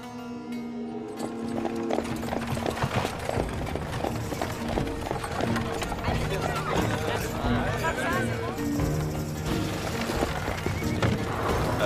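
A horse whinnies amid busy music and voices, with hoofbeats clattering along underneath at a steady pace.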